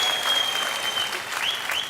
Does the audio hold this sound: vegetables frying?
no